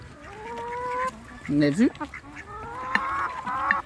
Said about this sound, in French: les poules qui s'amusent à manger les parts de gâteau